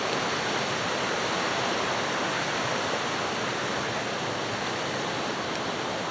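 Waterfall roaring in an outdoor setting, a loud, steady broadband rush of falling water that stays constant throughout with no voices.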